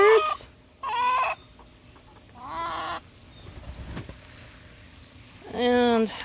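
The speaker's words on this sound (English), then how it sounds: "And there are our friendly chickens." Backyard garden chickens clucking and calling in several short, loud, close bursts separated by quiet gaps, with a brief knock in between.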